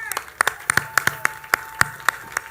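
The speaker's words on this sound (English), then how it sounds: "Please give a round of applause for Burton Gilliam." Scattered applause greets guest actor Burton Gilliam on a TV show set, a few distinct hand claps in an uneven, sparse rhythm, near and moderately loud with faint voices underneath.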